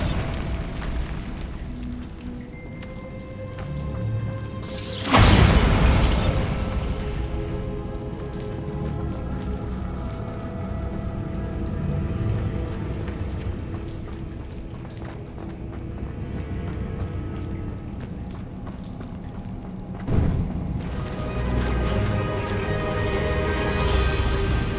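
Bombarda spell explosions in Hogwarts Legacy going off near a cave, two sharp booming blasts about fifteen seconds apart over a constant rain-like ambient hiss and low rumble, no talking.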